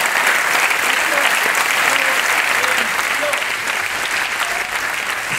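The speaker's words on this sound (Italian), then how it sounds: "Un applauso" A large audience applauds at an Italian awards ceremony, loud and continuous, with faint voices and crowd noise mixed into the clapping.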